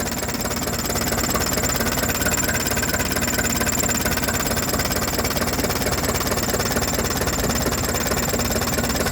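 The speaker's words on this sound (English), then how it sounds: "this engine, you cannot hear a knock, a rattle, anything" A 1951 Ferguson TED20 tractor engine runs steadily and close by, a dense, even mechanical chug with no knock or rattle, holding the same loud level throughout with no pauses.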